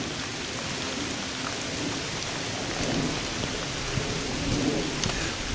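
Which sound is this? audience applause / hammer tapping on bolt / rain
rain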